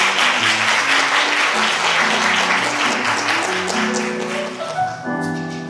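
Steady, dense audience applause fills a youth science-talk awards ceremony at the 2023 Chungbuk FameLab final, with a faint musical tone rising underneath toward the end.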